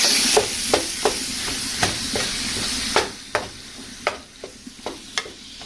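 Beef sizzles in a pan of cooking bolognese sauce with a loud steady hiss, broken by sharp regular scrapes and knocks from a stirring utensil about every half second, close up with no talking.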